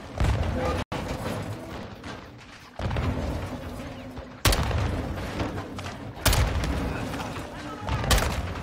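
Grenade launches and explosions in the Modern Warfare 2 campaign on Xbox Series X, a dense run of loud booming blasts and gunfire with sharp impacts at intervals, mixed with shouting soldiers.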